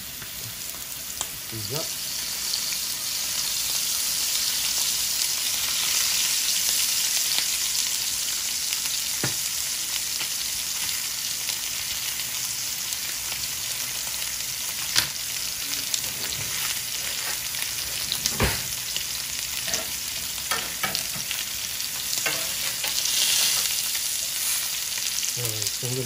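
A ribeye steak fries in olive oil with a strong, constant sizzle and hiss lasting throughout, broken by occasional clicks and clatters, while someone speaks briefly now and then.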